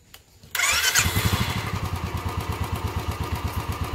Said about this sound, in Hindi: और इसको मैं स्टार्ट करता हूँ।